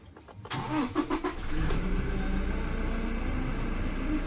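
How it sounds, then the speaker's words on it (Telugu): A 2016 Toyota Innova Crysta 2.4 diesel engine cranks briefly and catches on the first try, then settles into a steady, loud diesel idle close by. "సింగిల్ సెల్ఫ్ ఇంజన్ అనేది స్టార్ట్ అయింది."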